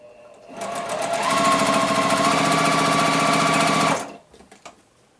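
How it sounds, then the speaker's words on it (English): A sewing machine stitches quilt pieces along a diagonal line in one loud, steady run of rapid mechanical whirring and clatter lasting a few seconds, then stops, followed by faint handling clicks. "we are just going to stitch right on the diagonal line"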